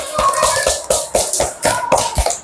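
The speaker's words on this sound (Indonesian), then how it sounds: "Terima kasih, tepuk tangan." Children applauding in a primary school classroom, a quick series of irregular claps landing close together over a steady murmur of young voices, fairly loud and close.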